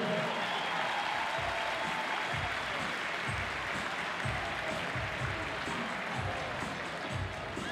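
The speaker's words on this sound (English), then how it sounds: "a big round of applause for all these teams here" Crowd in the Velodrome in Berlin, Germany applauding CrossFit teams at the 2018 Reebok Europe Regional team competition, a steady wash of clapping with low thumps from the arena floor.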